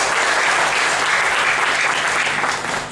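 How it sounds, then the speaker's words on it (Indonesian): An audience at a seminar in Timor Leste delivers loud, dense applause, a continuous wash of clapping that holds steady before easing slightly at the end. "Berikan lagi tepuk tangan bagi Tuhan Yesus."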